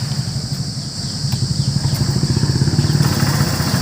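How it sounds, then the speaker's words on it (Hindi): Hero Super Splendor Xtec 2.0 motorcycle engine running at a quiet, steady idle close by, an even low putter throughout with little else around it. "देखो इंजन गाड़ी का स्टार्ट हो चुका है, कितना साइलेंट स्टार्ट होता है।"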